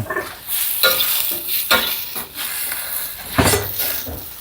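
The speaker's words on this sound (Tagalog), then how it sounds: "Haluin natin" Food sizzles in a pan while a utensil stirs it, giving steady frying hiss and a few louder scraping clinks against the metal, close and with no talk.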